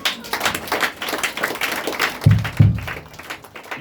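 Applause at a church service: a congregation claps in a dense, sustained patter, with a couple of louder thumps standing out near the end.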